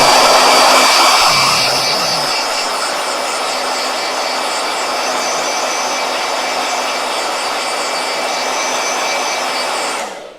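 A hair dryer blows steadily and loudly for about ten seconds, a constant whooshing roar with a faint whine, cutting off abruptly at the end.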